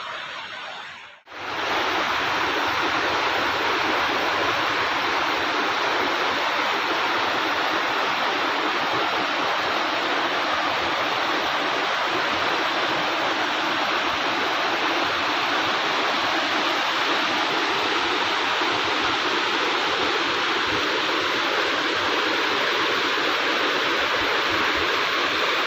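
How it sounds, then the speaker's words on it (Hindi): A mountain stream rushes steadily nearby on a Himalayan trek route, a loud, unbroken wash of flowing water over rocks that continues without pause and with no voices. "ये सामने पार है जो आप देख रहे हैं, ये नाला"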